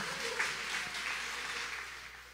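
Congregation clapping as an offering during a church service, a diffuse, moderately loud wash of many hands that fades slightly toward the end.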